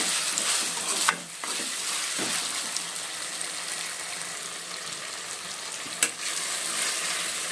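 Tomato pieces frying and cooking down in a pan for a vegetable dalcha, a continuous close sizzle with a couple of sharp scrape or clink sounds from stirring.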